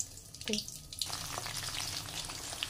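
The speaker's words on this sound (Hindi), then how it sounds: "यहाँ पर रिफाइंड ऑयल ले रही हूँ और यहीं पर हमने ये प्याज जो मोटे टुकड़ों में डाली थी इन्हें हमने तीन से चार मिनट फ्राई कर लेना है" Coarsely chopped onions fry in refined oil, a steady close hiss and crackle of sizzling with a brief clink of a utensil near the start and no talk.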